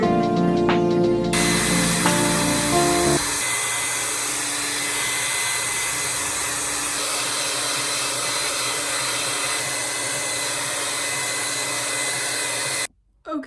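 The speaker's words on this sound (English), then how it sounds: "then we're going to start with the dryer" A hair dryer blows with a steady, loud whirring roar, switching to a different pitch early on and cutting off briefly near the end.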